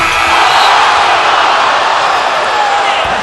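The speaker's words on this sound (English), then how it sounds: "You hear the crowd moaning" Basketball arena crowd at a Knicks game groaning and moaning after Carmelo Anthony's missed game-winning shot, a loud, dense, sustained wash of disappointed voices filling the space.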